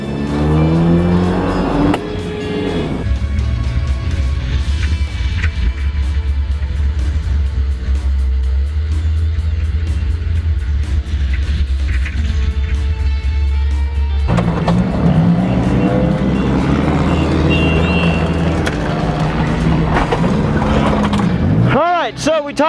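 Race cars in a video game enduro event roar loudly throughout, engines droning continuously with shifts in pitch and a burst of tire noise near the end, under game music and talk.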